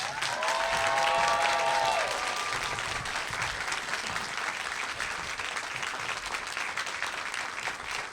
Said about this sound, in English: please say good morning with a loud round of applause for Eve Myles